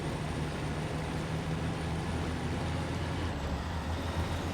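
A pickup truck's engine drones steadily as it powers through mud on a snowy trail, a loud continuous low rumble with broadband road and tire noise throughout, no voices.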